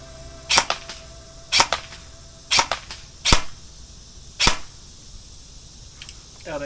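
Shots from a Lancer Tactical Gen 2 ProLine M4 SPR Interceptor airsoft rifle, five sharp cracks spaced roughly a second apart, clear and fairly close, each ringing briefly against a quiet background with no talking.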